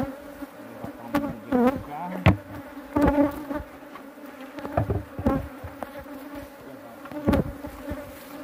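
Honeybees buzzing around hives at an apiary of about forty boxes, a close, wavering drone with individual bees sweeping loudly past in repeated swells.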